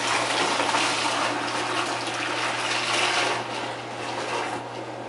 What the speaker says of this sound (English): we want to aerate it plenty good. Get lots of oxygen in there, so splash it.